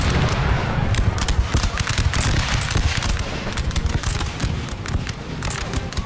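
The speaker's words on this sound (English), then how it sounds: "We're firing cluster shot." Four cannons firing cluster shot in the Napoleon Total War battle game, a dense rapid crackle of blasts and impacts layered over continuous battlefield rumble, loud and busy from start to finish.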